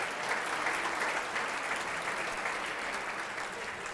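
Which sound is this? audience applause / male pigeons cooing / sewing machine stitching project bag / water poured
audience applause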